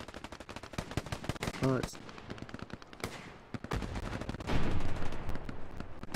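Rapid machine gun bursts in a war video game, a gunner firing from a mid HQ position, loud dense rattling volleys through most of the stretch with brief talk near the start.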